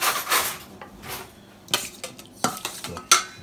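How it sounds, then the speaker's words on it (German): Fish and marinade stirred with a spoon in a bowl, a quick series of scraping strokes and metallic clinks of spoon on dish, fairly close and with no talk. "dass wir das einmal umrühren."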